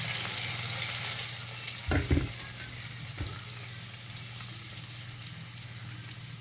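Onions tossed into hot oil in a kadai, the same oil used to fry tilapia fish, crackle in a steady close sizzle, broken by a couple of brief clattering stirs before the frying settles back to an even hiss.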